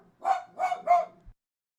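A pet dog barks three times in a quick, even rhythm, mid-pitched and fairly close but moderately soft, with silence before and after.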